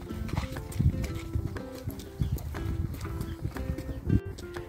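A horse's hooves clip-clop at a slow walking pace, fairly close, on farmland by stables, with a faint snort or whinny near the end.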